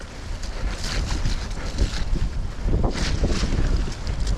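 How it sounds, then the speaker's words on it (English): Wind gusting past a mountain biker riding through about six inches of snow at Cannock Chase, a steady loud rushing roar with swelling bursts of buffeting noise throughout. "there's a bit of a wind"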